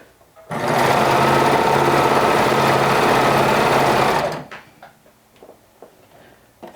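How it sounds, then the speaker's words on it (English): Sewing machine top stitching a dress, a fast continuous whirring run of about four seconds, close and loud, followed by quiet fabric handling and small clicks. "I made it on the other side now. I am top stitching."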